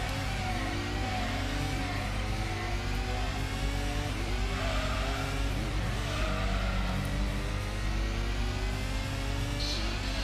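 Racing engines in Gran Turismo, including a Toyota Supra, hum in a steady, loud, continuous drone with gradually sliding pitch as the cars hold speed together.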